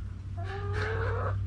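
A pet hen gives a single short, rising cluck up close, heard over a steady low hum.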